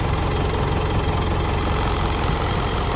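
Secondhand 2012 Mitsubishi Montero engine idling, a loud, steady close-up drone with an even low rumble and slight knocking texture throughout, no voices.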